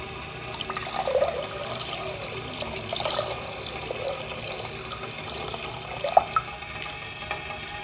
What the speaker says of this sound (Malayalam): ഇനി നമുക്ക് അതിലേക്ക് കുറച്ച് പാലും കൂടി ആഡ് ചെയ്ത് കൊടുക്കാം.